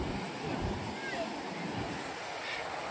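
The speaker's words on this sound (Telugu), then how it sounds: "బీచ్ అలలు కొడుతూ ఉంటాయి ఇక్కడ" Waves breaking on a beach at Diu, a steady wash of surf noise with wind buffeting the microphone, moderately faint and continuous.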